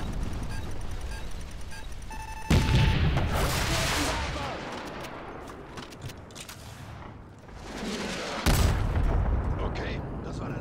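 Gunfire in the Call of Duty: Modern Warfare Remastered demo mission, with heavy booming shots and explosive blasts in loud bursts, then a rumbling lull before another sharp volley.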